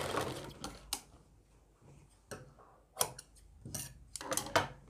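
A sewing machine stitches a medical nurse coat in short bursts, several quick whirring runs separated by pauses and faint clicks, fairly quiet and close.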